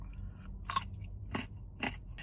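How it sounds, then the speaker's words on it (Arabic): Crunchy chewing of pickled cauliflower (torshi) served alongside Iraqi dolma and maqluba, with three or four distinct crisp bites spaced about half a second apart over a low background hum, close and alone. "اخر شيء بدلعوكم طرشي، هذا مخلل الزهره."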